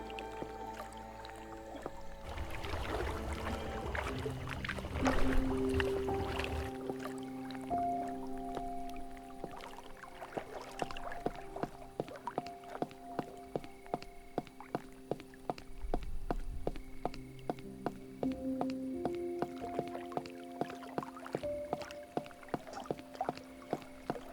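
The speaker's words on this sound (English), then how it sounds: "I love listening to water." In the Cabernet video game, a boat moves across water with splashing and sloshing strokes, then steady rhythmic drips and paddle clicks over soft game music tones.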